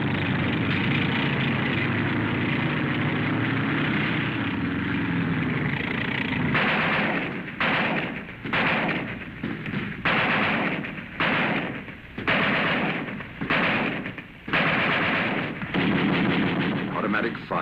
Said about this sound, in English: Automatic fire, heavy, no chance for the infantry to move.